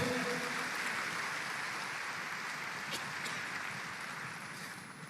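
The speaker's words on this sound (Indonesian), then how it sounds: "Yang setuju kita tepuk tangan yang panjang bagi dia." A church congregation at a Christmas service gives long, continuous applause, a faint, steady hiss of many clapping hands that holds evenly throughout and tapers slightly at the end.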